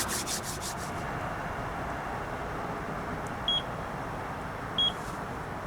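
Two short, high electronic beeps sound about a second apart over a steady hiss of background noise, at Kellet Lake fishery in Carnforth.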